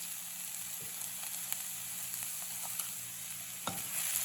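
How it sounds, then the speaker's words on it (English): Eelpout and spices stir-fried in a pan give a steady, fairly quiet sizzle with a few faint scrapes and taps of tossing, heard up close without talking. "Toss that all together, make it nice and mingle all the flavors, get it going."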